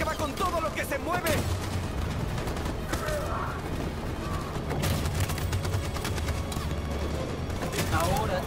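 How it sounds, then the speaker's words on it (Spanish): Machine gun fire rattles steadily through a battle in the game Detroit: Become Human, a dense continuous barrage with bursts of shouting voices over it. "¡Esa ametralladora acaba con todo lo que se mueve!"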